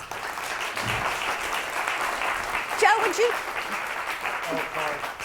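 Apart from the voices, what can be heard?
audience applause at a business event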